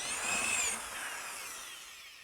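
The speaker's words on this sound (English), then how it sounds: "This 1-inch hole made with an auger bit is fine for 2 Cat 5 and 2 RG6s." A power drill with an auger bit whines briefly through wood while boring a 1-inch hole, its pitch dropping as the bit bites, then trailing off.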